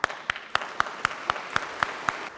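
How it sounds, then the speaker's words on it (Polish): Audience at a priest's farewell in church clapping in a steady, evenly spaced rhythm of roughly four sharp claps per second, close and fairly clear, with no talking. "A ja teraz brawa dla was."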